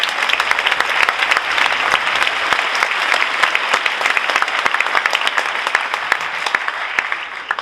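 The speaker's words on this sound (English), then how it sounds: "Can we give Mr. Pearson a round of applause for editing that video?" Loud, dense applause from an audience at a school band fall concert, steady clapping that fills the room throughout with crisp individual claps popping out of the mass.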